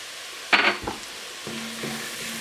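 Onions and carrots fry in a pan with a soft steady sizzle as flour is stirred in, marked by a brief scraping burst and a few light utensil scrapes, close up and without talk.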